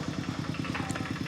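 A farm tractor engine runs at a steady idle in a rural Lao village, a rapid regular low thumping chug, close and fairly loud.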